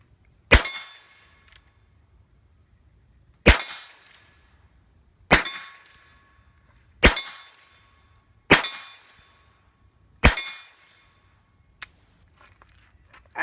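A Heritage Rough Rider .22 caliber revolver fires six loud, sharp single shots outdoors, spaced about one to three seconds apart with brief ringing decay, followed by a quieter click, likely the hammer or cylinder.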